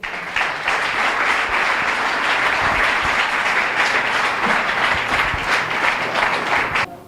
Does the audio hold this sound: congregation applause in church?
yes